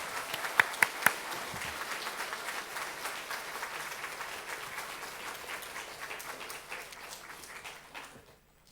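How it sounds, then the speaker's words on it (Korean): A church congregation at an anniversary thanksgiving service applauds steadily to welcome the pastor, a sustained wash of many hands clapping that carries on for several seconds and then fades away, with no talking over it. "우리 목사님 나오실 때 박수로 크게 환영하겠습니다."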